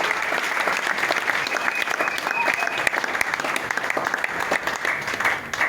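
A ceremony audience applauds loudly and steadily for honoured artists receiving merit diplomas. Dense clapping fills the whole stretch with a faint whistle partway through.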